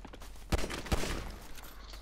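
Gunfire in GTA 5 Online: two sharp shots about half a second apart, fairly loud over a steady game background, with softer scattered noise after.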